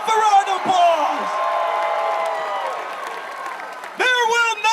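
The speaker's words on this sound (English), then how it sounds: "all of you showing up, give yourself a round of applause" A large crowd at the Baylor University men's basketball championship parade cheers and whoops under a loud amplified voice, a steady wash of crowd noise with a fresh burst of shouting near the end.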